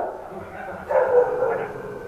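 A fierce, aggressive dog held by its collar gives short barks and yips close by, mixed with people talking in Portuguese.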